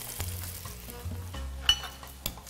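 Peppers frying in hot oil in a pan, a steady sizzle and crackle with a few sharper pops and a clink of a utensil, close and alone without talk.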